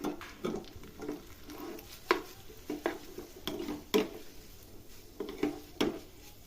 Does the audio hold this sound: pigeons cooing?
no